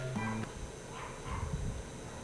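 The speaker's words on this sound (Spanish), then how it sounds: "¡Que se calle ese perro!" A dog in the video game Mulaka barks in a short burst near the start, then quieter yips and whimpers follow against a steady game ambience.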